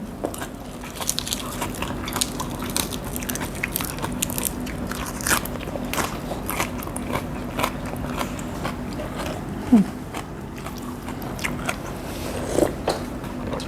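Close, crisp crunching and chewing of pork larb eaten with fresh raw vegetables, a steady run of irregular bites lasting several seconds with no talk.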